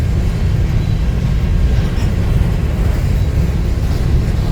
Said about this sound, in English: This is one of BNSF's 150-ish heritage hoppers.